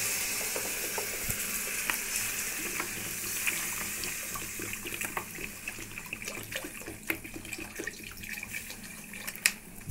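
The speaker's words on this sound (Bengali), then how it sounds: "কষা হয়ে গেছে, এবার জল দিয়ে দেবো।" Water pours into a pan of potato and rupchanda fish curry that has been frying with spices, a steady broadband sizzle and splash with small crackles, continuous and fairly close with no talk.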